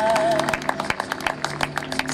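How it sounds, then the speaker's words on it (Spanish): Audience applause at a public anniversary ceremony, a dense run of claps lasting about two seconds with a brief tonal whine at the start. "El aplauso entonces."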